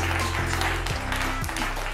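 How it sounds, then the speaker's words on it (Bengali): Applause for a team at a Holi family event in a Senco jewellery store in Dunlop, a brief burst of clapping mixed with background music and crowd noise. "টিম সির জন্য একটা স্পেশাল হাততালি"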